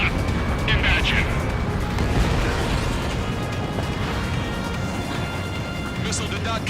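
Missile launch and explosions in the aerial combat game Ace Combat 7 form a dense, steady roar of jet engine and blasts, loud and continuous throughout.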